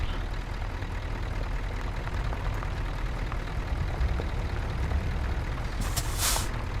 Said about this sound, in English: Alright, got the Jake brake on.